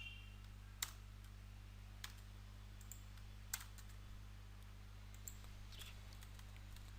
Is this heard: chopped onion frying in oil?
no